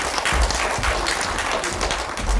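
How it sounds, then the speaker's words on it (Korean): Applause from the audience at a public academic presentation session, a steady wash of clapping that fills the whole moment at moderate loudness. "큰 박수 부탁드립니다"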